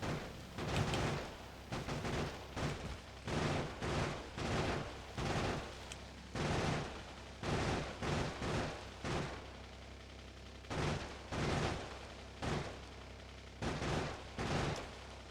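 Turret gunfire in Factorio Space Age rattles in repeated loud bursts of rapid shots, separated by short pauses, with the bursts clustered close together across the whole span.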